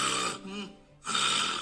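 A sleeping person snores at a snoring research center: two loud, rasping snores close up, separated by a short, quieter breathing pause.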